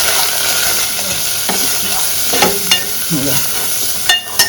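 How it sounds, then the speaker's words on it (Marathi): Malvani masala being sautéed in a pan for a Konkan crab curry: a continuous loud sizzle with a handful of distinct spoon scrapes and knocks, close up. "आमचा मालवणी मसाला एक चमचा घालते तो पण परतून घेऊया"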